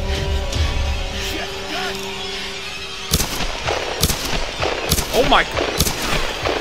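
Sharp gunshots crack out in the Tomb Raider video game, several separate loud reports after a quieter stretch, mixed with a brief exclaimed voice.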